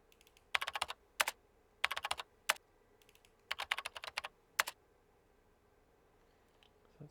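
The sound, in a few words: computer keyboard typing sound effect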